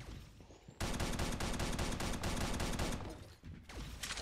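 A plasma rifle in the mobile shooter Pixel Gun 3D fires a sustained rapid burst of electronic shots for over two seconds, loud and dense, then tapers off into softer game sounds.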